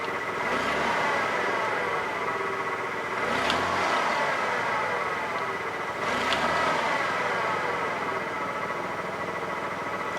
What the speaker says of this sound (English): Still has the rough idle, but it's not as rough as it was.